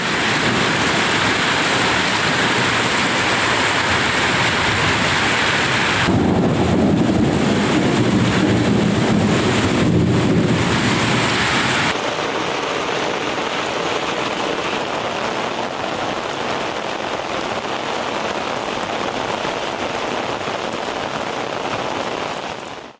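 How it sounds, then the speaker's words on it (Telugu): Heavy rain pours steadily during a thunderstorm in Yerragondapalem, a dense continuous wash of drops on surfaces, with a louder, rougher burst of downpour partway through before settling back to a constant roar. "ఎర్రగొండపాలెంలో ఉరుములు మెరుపులతో కూడిన వర్షం పడింది."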